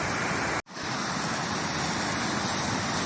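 Dangerous, fast-moving floodwater roars loudly and steadily up close, cut by a brief dropout early on before the rushing resumes unbroken.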